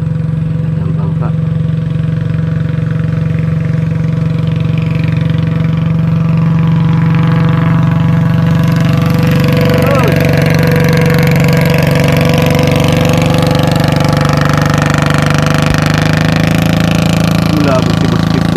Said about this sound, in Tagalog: Nako, may padaan pang bangka.